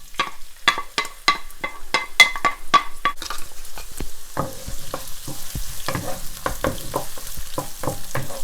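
Salt and pepper shrimp aromatics hit very hot oil in a wok, giving a loud steady sizzle punctuated by rapid rhythmic scraping and tossing strokes of the spatula.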